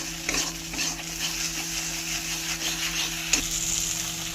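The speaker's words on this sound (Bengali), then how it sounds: "মশলা ভালোভাবে কষানো হয়ে গেছে" Masala made with cashew, poppy seed, melon seed and green chillies fries in oil for Kashmiri aloo dum, giving a steady soft sizzle while a utensil stirs and scrapes the pan, with a couple of sharper clinks.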